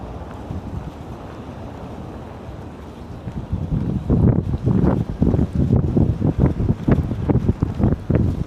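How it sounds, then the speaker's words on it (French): Wind buffets the microphone in strong gusts, growing louder and rougher partway through, with a low rumbling roar. "Le vent souffle encore, hein."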